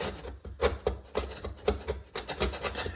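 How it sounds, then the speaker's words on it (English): A chisel, held upside down, scrapes old glue adhesive off a floor in repeated short, rasping strokes, roughly rhythmic and close, each scrape gritty and abrasive. "I'm using the chisel the opposite way up so it doesn't dig in as much"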